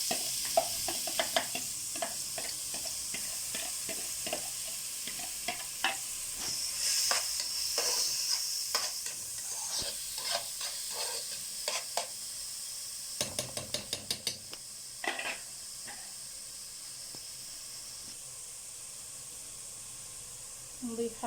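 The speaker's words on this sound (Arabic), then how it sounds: "حطينا معلقة سمنة معلقة زيت سخنوا معانا. هننزل معانا بصلاية كبيرة عملناها في الكبة بتاعتنا." Chopped onion sizzles in hot ghee and oil in a pot on the stove, a steady hiss broken by stirring clatter and scrapes, fairly close, with no talking over it.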